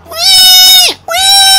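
A person mimics a pig squeal with their voice, two loud, high, strained squeals in quick succession close to the microphone, the first long and dropping sharply at its end, the second starting abruptly after a brief gap.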